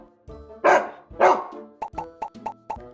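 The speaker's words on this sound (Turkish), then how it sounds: "Hangisi köpek? Bravo, köpek işte bu." A dog barks about eight times: two long, strained barks followed by a quick run of six short, sharp yips, close and loud.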